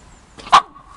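A dog gives one short, sharp bark near the middle of the moment, close and fairly loud against an otherwise quiet room.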